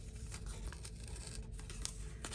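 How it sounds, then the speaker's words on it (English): Masking tape peeled slowly off a stamped paper craft project, a soft close crinkling and tearing rasp lasting a couple of seconds. "I'm just going to peel off our masking"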